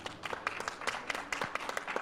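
An audience at a panel discussion gives a brief round of applause for Juan, with dense, steady clapping at moderate volume and no voices over it.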